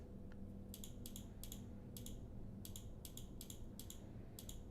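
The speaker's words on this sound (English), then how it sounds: "y'all hear me clicking?" Mouse and keyboard clicking at a computer during live trading practice: quick clusters of crisp, faint clicks in a steady, uneven rhythm over a quiet hum, with no talking.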